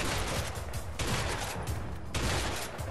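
Sustained gunfire from a firefight in the video game A Way Out, dense rapid bursts of shots that run continuously at a steady loud level with no voices.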